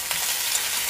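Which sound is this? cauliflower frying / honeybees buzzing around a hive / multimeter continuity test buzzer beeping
cauliflower frying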